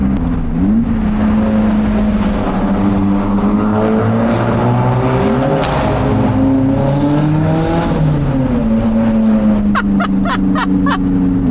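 A VW Golf engine revs hard near Lake Como, its loud, close roar climbing and falling in pitch several times, with a quick string of sharp crackles near the end.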